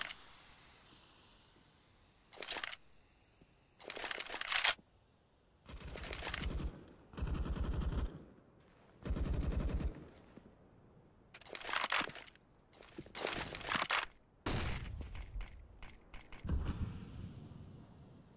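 Bursts of automatic rifle fire in CS:GO on the Dust2 map, several sharp sprays of varying length separated by short quiet gaps, loud and close, with mechanical clicks between volleys.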